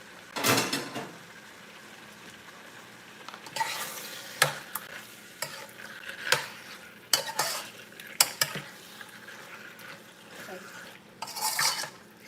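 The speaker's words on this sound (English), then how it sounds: "And you put the onions in." Onions being stirred in a pan over a very high flame, a steady frying sizzle broken by repeated scraping knocks of the utensil against the pan, some strokes louder and closer.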